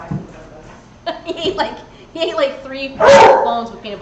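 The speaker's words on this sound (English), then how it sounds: "I apologize for the barking." A puppy's barks and yips come in short bursts over ongoing talk nearby, with a louder burst near the end, as the excited young dog plays up after wolfing down treats and bones with peanut butter.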